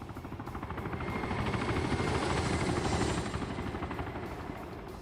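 A helicopter flies overhead in an OFCRA PvP match, its dense rotor thump and turbine roar swelling louder toward the middle then easing slightly, with no voices.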